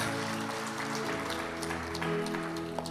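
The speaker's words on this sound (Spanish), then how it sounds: "Dele el mejor aplauso al Señor" A church congregation claps in praise to the Lord, faint but sustained applause against a background of held musical tones.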